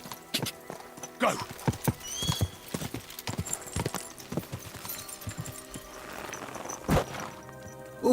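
Hooves clop unevenly in the foreground with thuds and scuffs, and a horse whinnies partway through amid game-like clatter in Kingdom Come: Deliverance 2.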